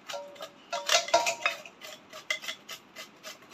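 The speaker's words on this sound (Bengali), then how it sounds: "এবার আমি এটা গ্রেটার দিয়ে আমি এটা গ্রেট করে নেব" Raw sour mango is rubbed across a grater in quick, irregular scraping strokes with small metallic clicks, close and fairly quiet, with no voices.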